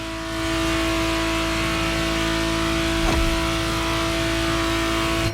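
Ferrari Testarossa in The Crew Motorfest, its engine holding a loud, steady high-revving drone with strong harmonic tones and a brief swell around the middle, no voices.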